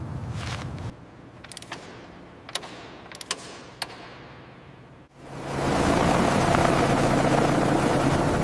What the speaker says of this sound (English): Rotor balanced, the helicopter moves to the ground test area.